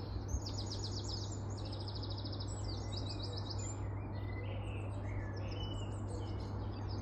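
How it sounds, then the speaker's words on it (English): Birds sing on a spring morning, several chirping and trilling phrases overlapping at moderate distance above a steady low hum, with no voices. "The birds sound so pretty this morning."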